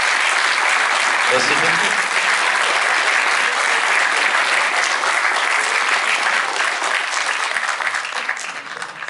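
Sustained, loud applause fills a cinema after a preview screening of the animated film Memoir of a Snail, with a brief spoken thank-you near the start and the clapping tapering slightly at the end.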